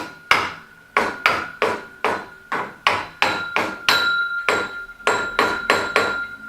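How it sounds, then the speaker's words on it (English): Hammer strikes drive a bearing into place on the bar of a BoltCNC DIY router kit under assembly, about fourteen sharp, evenly spaced metallic blows with ringing decay, close and loud, no talking. "Actually hammering it pretty close to where the bearing is touching the bar."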